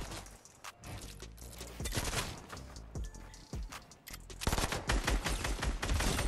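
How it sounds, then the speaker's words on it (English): Rapid bursts of gunfire in the video game Fortnite, loud and repeated across the whole stretch, growing denser and heavier toward the end. "Oh, someone just shot at me."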